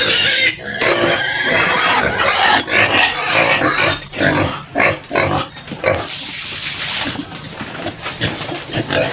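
A pig squeals loudly and repeatedly in sharp bursts, with grunts and farmyard noise between the cries.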